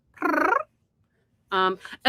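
A person imitates a cat with a voiced, purring-like growl, one bout near the start and another rougher one after a pause, loud and close.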